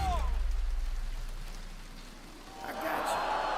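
Rain pours steadily in a video game trailer shown at a Gamescom showcase, a dense close hiss of drops on surfaces with a low rumble underneath that fades and then swells again.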